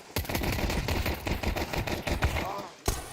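Rapid gunfire from a Counter-Strike match at a BLAST Premier esports event, dense bursts of shots in fast rhythm with a brief pause before one final crack near the end.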